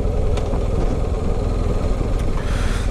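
A BMW R 1250 GS motorcycle engine idling, a steady, slightly clattery rumble held at an even level throughout, close by with no talk.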